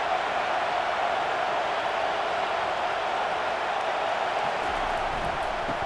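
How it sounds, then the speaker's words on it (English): Dense, steady roar of a college football stadium crowd at an Alabama Crimson Tide versus Wisconsin Badgers game, loud and unbroken throughout with no clear peaks or voices standing out. "this crowd is turning it up a notch."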